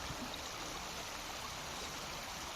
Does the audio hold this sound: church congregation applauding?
no